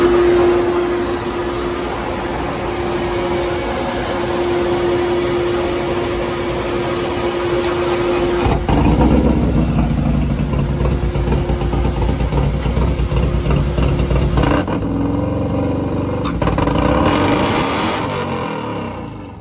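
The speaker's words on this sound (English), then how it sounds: "I'm holding the throttle wide open and just throwing the clutch away." A 2017 Harley-Davidson Milwaukee-Eight bagger runs on a dyno during a launch control test, the engine holding a loud steady drone at wide-open throttle, then surging and dropping in a couple of distinct shifts.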